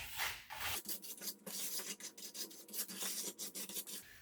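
Ski edge being filed to remove burrs, a rhythmic series of rasping strokes, close and fairly quiet, repeating evenly with short gaps.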